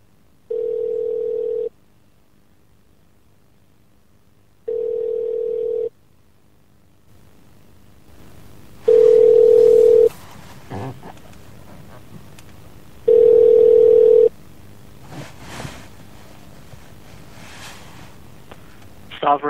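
Telephone tone during a call transfer: four steady beeps, each lasting about a second, at regular intervals, loud and clear, over a faint line hiss that grows noisier toward the end, with no voices.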